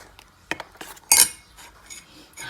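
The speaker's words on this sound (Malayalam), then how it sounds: "നന്നായി മിക്സ് ചെയ്യുന്നു." Spoon clinks and taps against a bowl while mango unniappam batter with sesame seeds is mixed, several sharp close knocks spaced irregularly over a quiet background.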